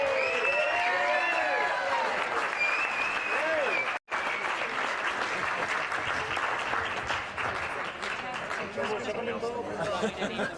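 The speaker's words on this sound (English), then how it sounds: "Give them another round of applause." A crowd at a charity golf event applauds with dense clapping throughout, mixed with chatter and a voice speaking over it, after a brief cut.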